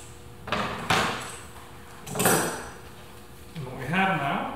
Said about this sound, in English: so let's go ahead and pull these clamps off.